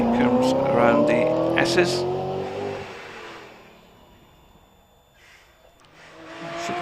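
A V8 4.3 litre Aston Martin Vantage racing up the hillclimb at Prescott gives a strong engine note that swells and then fades into the distance, heard under a commentator's voice.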